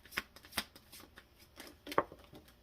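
A deck of tarot cards gets shuffled in a few brisk, papery riffles and flicks, close by and with short pauses between bursts.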